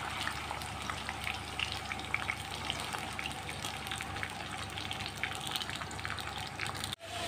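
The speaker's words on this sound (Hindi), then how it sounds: "अब इसमें आप चिकन डाल दें।" Chicken fries in a pan, giving a steady, fairly quiet sizzling hiss that runs on evenly, with a brief dip near the end.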